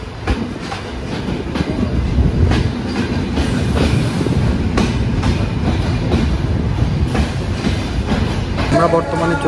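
The Dhumketu Express intercity train, running from Rajshahi to Dhaka, roars along the rails with a loud, continuous rumble. Rhythmic clickety-clack wheel beats run throughout.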